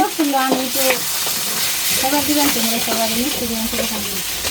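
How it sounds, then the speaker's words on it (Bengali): Food frying in a pan while being stirred in a home kitchen, a steady sizzle running throughout with occasional scrapes, partly covered by a voice talking nearby. "এই যে পাশে এসে বর্দি রান্না করতেছে"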